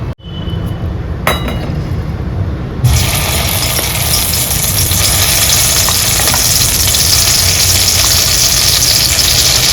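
Spice paste for a dried bombil curry hits hot oil in a pan, starting with a clink and then bursting into loud, continuous close sizzling that stays strong throughout.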